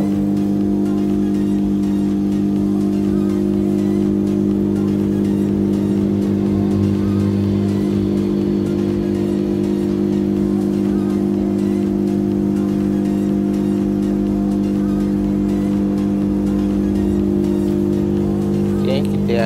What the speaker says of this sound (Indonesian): Ini adalah mesin gantai kupu.